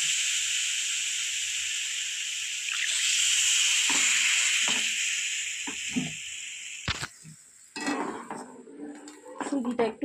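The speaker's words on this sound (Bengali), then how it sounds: "এবার আমি দিয়ে দেবো আস্তে আস্তে করে জলটা।" Water poured slowly into hot roasted semolina for halwa in a pan, giving a loud steady sizzle and hiss that fades, followed by scattered clinks of a utensil against the pan.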